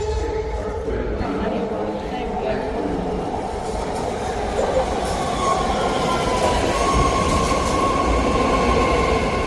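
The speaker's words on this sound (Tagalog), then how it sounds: "Padating na yung train." A train pulls into a San Francisco station bound for the airport, a loud rumbling roar of wheels on rails with faint squeals building steadily, people talking nearby under the noise.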